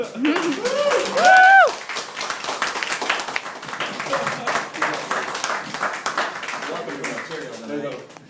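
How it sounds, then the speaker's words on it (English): A comedy club crowd applauds a stand-up comedian after his set. A voice speaks first, then a sustained burst of many hands clapping rolls on for several seconds before tapering as speech returns. "Jeff Allen Murchie, big round of applause."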